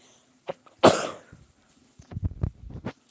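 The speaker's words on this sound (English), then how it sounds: "Guys, I had to sneeze." A single loud, sharp sneeze bursts out close to the mic, followed by quieter breaths and small rustling noises, with no talking.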